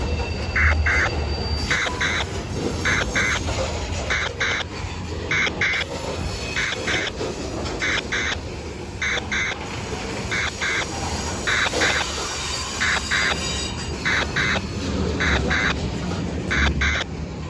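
Freight train horns blare in a rhythmic series of repeated short and long blasts at a railfan gathering in Plant City, Florida, loud and close over a steady rumble of rail noise, with no talking.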